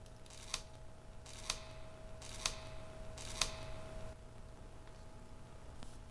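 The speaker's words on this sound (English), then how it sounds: "I think we're gonna cut it right here." Four sharp, quiet snips of blades cutting a Pilea peperomioides stem, spaced about a second apart against a faint background hum with no talking.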